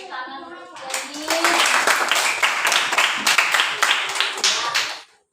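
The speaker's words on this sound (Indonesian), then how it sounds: "Kita tepuk tangan untuk Jenny." Classroom children clap together for a classmate, a burst of brisk, fairly close hand claps lasting about four seconds after a brief spoken phrase, then cutting off.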